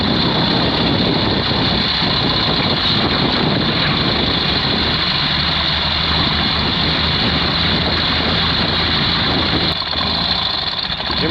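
A sidecar motorcycle with a faulty starter, on a road in Borneo, runs with a steady, loud engine drone for the full stretch. No speech is heard.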